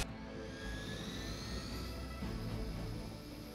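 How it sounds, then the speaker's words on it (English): A Hydra helicopter's rotor and engine drone in the game Midnight Suns, a steady roar with a faint rising whine, continuous for a few seconds with no talk. "Target the helicopter with attacks."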